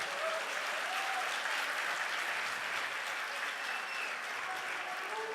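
A church congregation breaks into sustained applause, a dense, steady wash of clapping that holds evenly from start to finish with no talk on top.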